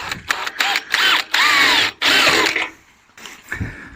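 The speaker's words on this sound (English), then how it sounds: "So we've drilled the 10mm hole on the outside, a 6mm hole on the inside." A power drill bores holes for fitting a tailgate spoiler on a Vauxhall Nova SR, several loud whining bursts of rising and falling pitch separated by short pauses, close to the microphone, ending in quieter clicks.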